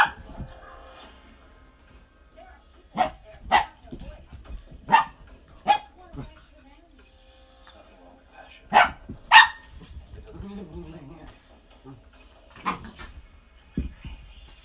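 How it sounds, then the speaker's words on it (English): Puppies give sharp, scattered barks and yips close by across a long stretch, with soft whimpers between them and faint household sounds. "we got crazy puppies"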